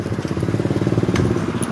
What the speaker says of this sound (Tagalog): Ay, motor mo.